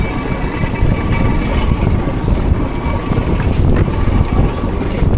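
On a fishing boat out after pomfret, a storm drives big waves against the hull amid loud, constant wind roaring across the microphone, the water sloshing and crashing in irregular surges.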